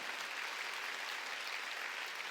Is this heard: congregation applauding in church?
yes